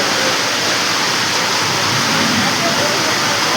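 Heavy rain pours down in Kolkata's Garia area as a dense, continuous roar of falling water, loud and unbroken from start to finish.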